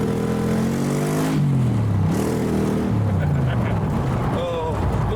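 Pilgrim kit car built on a Granada base with a Range Rover V8 revs loud and close, its engine note climbing and falling in a few throaty sweeps as someone talks over it.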